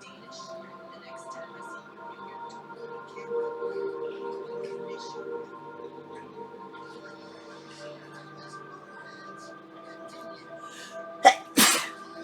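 A single sharp sneeze bursts out near the end, loud and close, after a stretch of quiet background hum and faint low murmuring.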